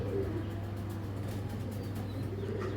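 Low, steady cooing comes from a silver racer pigeon held among a pair, soft and continuous over a constant low hum, with no voices.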